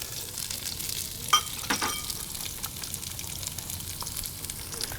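Diced white onion, celery and aromatics sizzle steadily in olive oil in a Dutch oven, a soft continuous frying hiss with a couple of brief utensil clinks partway through.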